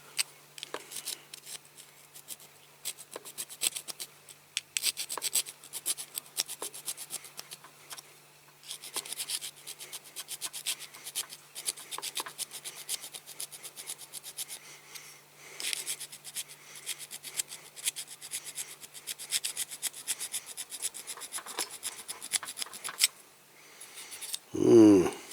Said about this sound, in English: I've got to file these rivet posts down a bit